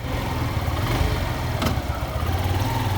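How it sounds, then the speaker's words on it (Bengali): A motorbike engine idling at a steady low rumble, close and continuous for the whole stretch with no revving and no talk. "বাইক স্টার্ট করলাম ইয়াস বাইক রেডি"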